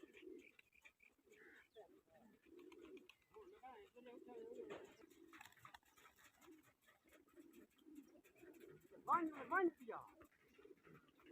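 Pigeons coo in soft, repeated low murmurs during a pigeon-flying competition, with a louder burst of bird calls near the end, heard under and between people talking.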